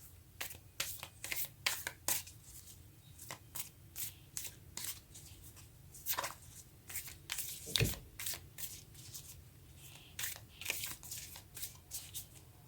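Tarot cards are shuffled and handled close up in quick, irregular bursts of riffling and slapping, with brief pauses between them.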